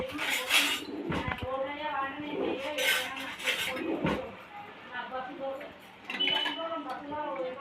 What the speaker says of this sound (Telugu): 1 స్పూన్ ఉప్పు వేసుకొని కలుపుకుందాము